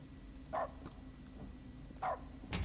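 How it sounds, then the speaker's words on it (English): A dog barks in the video game The Stanley Parable Ultra Deluxe: two short, faint barks about a second and a half apart over a low steady hum, then a sharper sound at the end. "I like barking."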